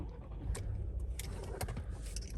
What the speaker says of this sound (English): so let's go and turn the car back on now and see if that fixes it